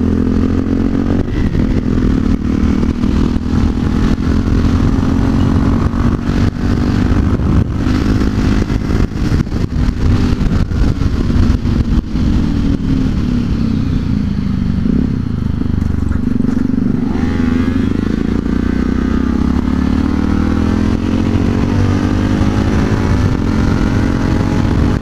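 A Yamaha XT660X motorcycle accelerating hard on rolled asphalt, its engine loud and close, rising through revs in a continuous roar with rattly crackle.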